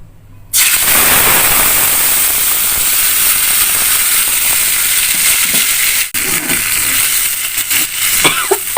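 Ground spice paste dropped into very hot oil while making spicy mushroom-stuffed tofu: a loud, sudden burst of sizzling that settles into a sustained hissing roar, with brief crackles near the end.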